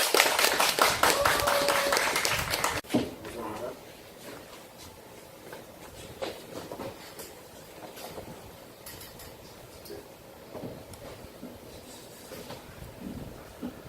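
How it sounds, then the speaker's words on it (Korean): An audience at a Korean lecture event claps to welcome a seminary professor, a burst of dense applause that fades after a few seconds into scattered light claps and quiet room noise. "박수 한번 보여주세요."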